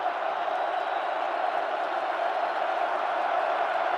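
Crowd in a college basketball arena roaring as BYU takes the lead over Arizona, a dense, steady wall of cheering and shouting that holds loud and unbroken throughout.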